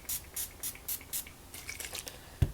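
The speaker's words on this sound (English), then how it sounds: "So I just take this spray" A skincare spray bottle pumped in a quick series of short bursts, each spritz a crisp hiss, six or so evenly spaced, followed by a soft thump near the end; close and fairly quiet with no talking.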